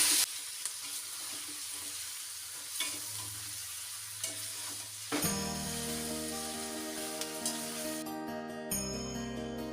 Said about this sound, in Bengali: গাজর, বিনস আর ক্যাপসিকামটা ভাজতে দিয়েছি।